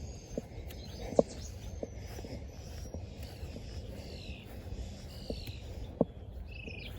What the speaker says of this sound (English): You hear all those birds? They're warning everybody